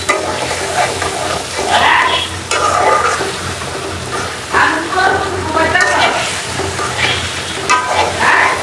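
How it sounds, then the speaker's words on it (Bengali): Spice masala with salt being stir-fried in a pan, a steady sizzle broken by repeated scraping strokes of a spoon, with a voice talking over it at times. "ভালো করে মশলাটা কষাই।"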